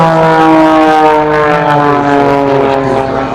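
A propeller aerobatic airplane diving at the Reno air races in 2013, a loud sustained engine drone with strong harmonics that slide slightly in pitch as it passes close.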